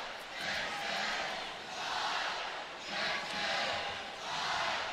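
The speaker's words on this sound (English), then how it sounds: "Crowd will not be silenced during a replay, that's for sure." A volleyball arena crowd in Austin roars during a replay review at a women's college match, rising and falling in rhythmic swells like a chant, moderately distant and without distinct speech.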